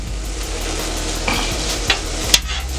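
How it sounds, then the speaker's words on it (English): Steak, onions and green peppers stirred together on a hot steel griddle for Philly cheesesteak: a steady sizzle runs throughout, with a few sharp scraping clicks of a spatula near the end. "I'm going to incorporate my onions and green peppers with the steak"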